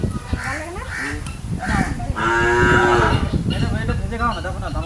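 A cow on a farm, being fed pumpkin greens, gives several close, loud moos in succession, with a longer drawn-out call in the middle.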